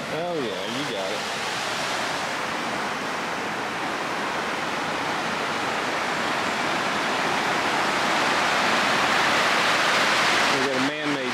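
Water pours steadily over a man-made dam near an 1882 covered bridge in Elizabethton, Tennessee. The rush is dense and constant and grows slightly louder toward the end, with brief voice-like sounds at the start and finish.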